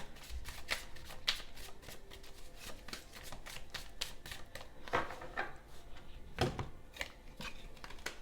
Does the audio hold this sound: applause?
no